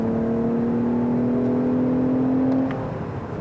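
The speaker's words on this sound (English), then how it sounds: "if I go ahead and downshift it a little bit and put the hammer down" A Lexus ES350 F Sport sedan accelerates hard after a downshift, its engine giving a loud, steady rising induction howl that holds for a few seconds before easing off, with no talk over it.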